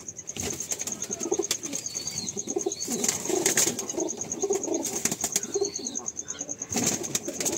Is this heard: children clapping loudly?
no